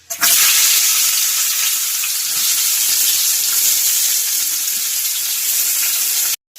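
Onions hit hot oil with fenugreek seeds in a pan while cooking a fish dish, giving a loud, dense, steady hissing sizzle that runs almost unbroken before cutting off abruptly at the end.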